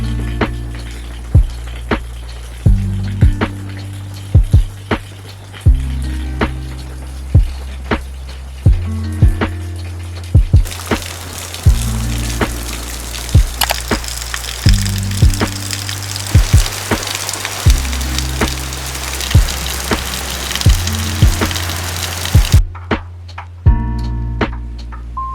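Steady rain falls on a rainy day, a constant broad hiss of drops heard under music with a pulsing bass beat, growing louder midway and continuing to the end.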